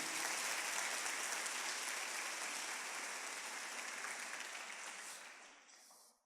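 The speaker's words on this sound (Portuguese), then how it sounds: "dá um aplauso bem lindo" A church congregation claps together in a dense, even wash of applause that holds steady, then thins and fades out over the last second, with no talk over it.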